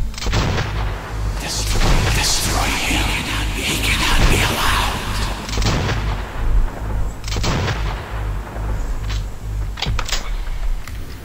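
Grenades and bombs explode in Metro 2033, loud, dense blasts rumbling over one another, with a few sharper cracks standing out near the end.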